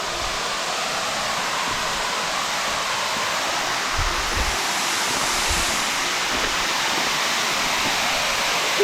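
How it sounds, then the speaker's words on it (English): Spray from Tunglebung Falls in Richmond Range National Park, New South Wales, pours close by as a loud, steady broadband roar of falling water, constant throughout with only slight surges. "I'm behind the waterfall spray"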